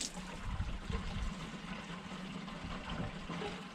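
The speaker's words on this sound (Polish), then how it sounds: "Pokażę Wam jak sobie na przykład nalewam wodę w domu w ten sposób, wkładam wąż," Water from a garden hose fills a camper's water tank, a faint steady rushing trickle that continues evenly throughout with no talking.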